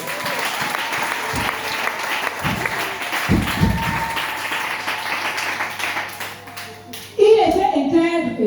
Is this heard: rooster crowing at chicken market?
no